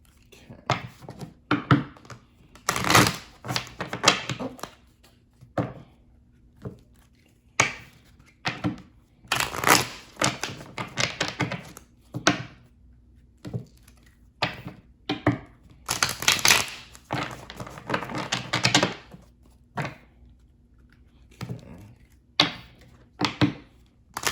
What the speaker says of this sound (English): So let's get these cards shuffled